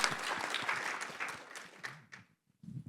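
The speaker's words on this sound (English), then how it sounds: "Oh, yes, let's clap." An audience at a forum gives a round of clapping that stays fairly even, then thins and dies away into near silence before a voice resumes at the end.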